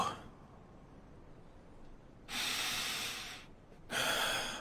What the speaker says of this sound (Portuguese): A respiração diminuiu.